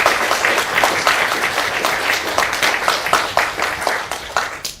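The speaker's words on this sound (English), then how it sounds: "give them a big round of applause" Audience clapping for panelists at a horticulture conference discussion, a fairly close patter of hands that runs steadily for several seconds with small rhythmic swells and no talking.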